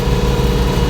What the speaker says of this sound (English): I got to talk loud because the tractor's going